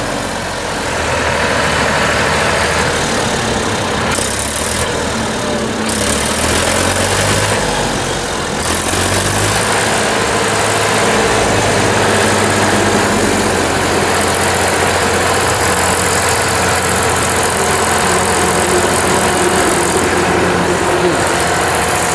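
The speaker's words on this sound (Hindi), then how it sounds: "पावर स्टीयरिंग में ट्रैक्टर है।" A power-steering tractor engine idles steadily with a low rumbling hum throughout, while people talk over it in the background.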